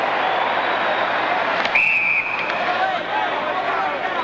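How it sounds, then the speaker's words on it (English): Referee's whistle at an ice hockey game between the USA and Finland at the 1980 Winter Olympics, a single shrill blast rising over steady arena crowd noise, followed by a fainter short tone. "The whistle there was for the puck striking a high stick and then going to a member of your own team."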